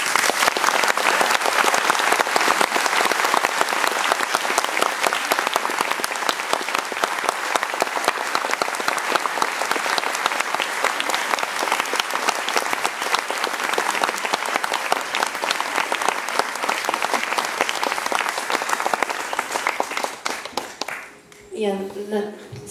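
Sustained, dense applause from a concert audience in Paris greeting a cellist: loud continuous clapping fills nearly the whole stretch, then fades toward the end as a voice starts speaking.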